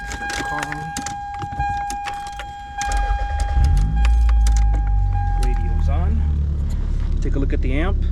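A 1990 Toyota Celica GT-S starts up: a steady electronic chime and a few clicks come first, then the engine catches and settles into a low, close idle rumble.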